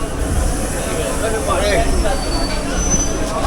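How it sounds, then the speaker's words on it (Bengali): A Bardhaman local train rolls into a crowded station, its wheels squealing in rising and falling metallic tones over a heavy rumble of rail cars, close and loud, with voices murmuring on the platform. "ঢুকে গেছে এখন বর্ধমান লোকাল"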